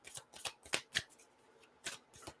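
Tarot cards being shuffled by hand in a quiet room, a handful of soft, quick riffling bursts with pauses between, faint and close with no talk.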